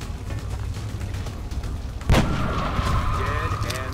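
A single sharp rifle shot cracks midway through a turn-based XCOM: Enemy Within battle, loud and close against a low ambient rumble, followed by a faint trailing whine and spoken commentary.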